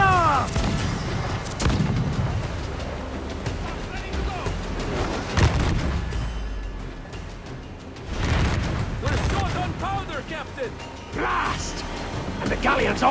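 Ship cannons fire in broadsides during a galleon battle in Assassin's Creed 4 Black Flag, with repeated heavy booms and crashes over the noise of a sea fight, while voices shout commands throughout.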